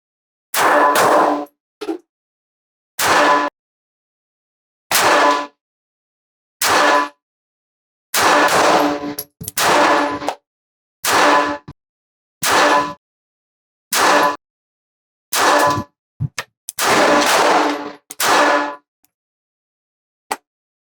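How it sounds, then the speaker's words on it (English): A Smith & Wesson Bodyguard 2.0 Carry Comp pistol fires twelve loud, sharp shots at a range target, spaced irregularly with some quick pairs and short pauses between them. "Here we go. 12 shots."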